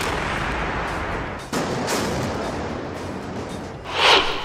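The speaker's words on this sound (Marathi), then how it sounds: "नियंत्रित स्फोटाद्वारे पूल पाडला जाणार" Controlled explosive demolition of the Chandni Chowk bridge in Pune: a sharp blast at about 1.5 seconds over steady rumbling noise, then a further burst near the end.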